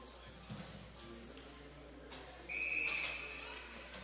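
A referee's whistle at a women's college ice hockey game, RPI against Robert Morris, gives a short, shrill blast midway through, over steady arena crowd noise.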